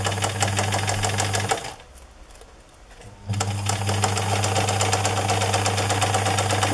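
Sewing machine stitching a hanging organiser bag, running loud and steady with a constant mechanical hum, pausing briefly midway before starting up again at the same pace.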